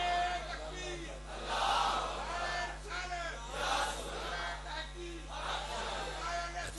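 Religious gathering audience shouting a slogan in unison, a loud crowd chant in repeated bursts over a steady low hum, no single voice standing out.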